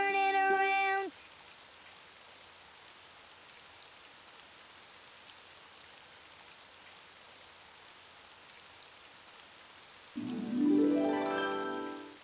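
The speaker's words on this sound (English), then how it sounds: "Oh, it's raining outside." Steady rain falling outside as a soft, even hiss throughout, with brief musical tones at the start and end.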